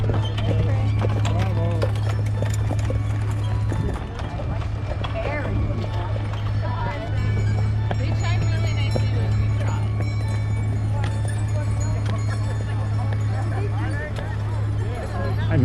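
Hooves of a six-horse hitch clip-clopping past in a steeplechase horse parade, a steady moderate patter beneath a continuous low hum, with people talking over it.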